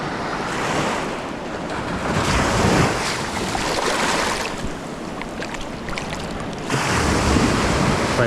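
Ocean waves break and wash up a beach in a continuous loud roar, surging and receding, with gusty wind noise on the microphone and no voices.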